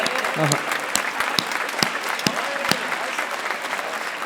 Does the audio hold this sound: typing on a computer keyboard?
no